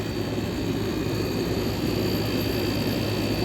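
A vintage GE air conditioner with a rotary compressor runs steadily, its fan and compressor giving a constant broadband whoosh with a low hum underneath, close and even, with no voices.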